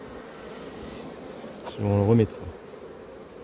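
Honey bees buzzing around an opened beehive during hive work, a low steady hum beneath a brief spoken French phrase.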